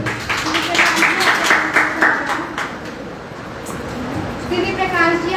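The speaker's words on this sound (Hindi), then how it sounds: "तालियों से उसका स्वागत करें।" An audience claps to welcome a poet at a Hindi Diwas poetry gathering. The applause is dense and steady, then thins out over a few seconds, with voices mixed in.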